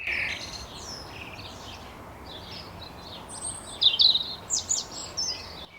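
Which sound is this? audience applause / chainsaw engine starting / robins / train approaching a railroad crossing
robins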